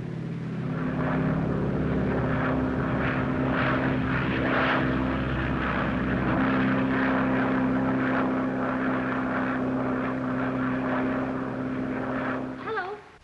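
A propeller airplane in a 1937 American film drones loudly and steadily throughout, its engine hum holding even with layered tones, while voices sound faintly beneath it.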